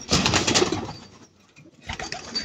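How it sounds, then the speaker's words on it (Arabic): Pigeons cooing close by, soft throaty calls layered with some rustling, a brief lull in the middle, then the cooing returns. "عندنا حمام حلو"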